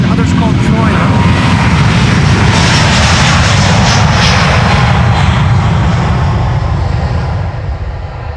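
A China Airlines jet airliner takes off from the Polderbaan runway at Amsterdam Schiphol on a sunny morning, its engines roaring loud and steady throughout before starting to fade near the end.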